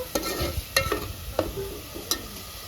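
Masala frying in a pan for mutton and drumstick curry is stirred with about four distinct scraping strokes over a low, steady sizzle, close up with no talking.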